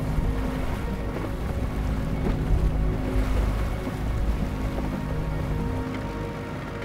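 An all-terrain vehicle churns through a swollen river during the thaw in Kamchatka, with a steady low engine rumble under continuous rushing, sloshing water.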